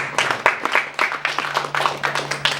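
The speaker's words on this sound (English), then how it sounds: "Yes, you can clap because they're amazing" Audience at a Sunday spiritual service clapping in scattered, uneven bursts, moderately close, with a faint steady hum underneath.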